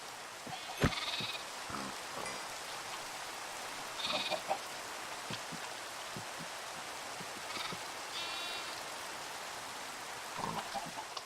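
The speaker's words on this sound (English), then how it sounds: "Are those sheep?" Blocky sheep in Minecraft bleat three or four times, faint and spaced apart, over a steady hissing background like rain.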